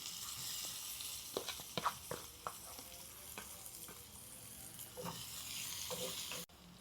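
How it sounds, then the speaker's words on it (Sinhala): Ginger and garlic frying in a pan, a steady close sizzle with scattered sharp pops and crackles, alone without talk, cutting off abruptly at the end. "අපි මෙන්න මේ විදිහට හොඳට ඉඟුරු සුදු ලුණු ටික බැද ගන්න ඕන."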